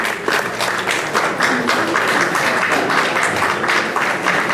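A large audience gives a young man a big round of applause, a loud continuous wash of clapping with no one speaking over it.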